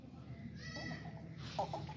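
A healthy, plump goat at a goat sale gives a short bleat that rises near the end, faint against low background noise and murmuring.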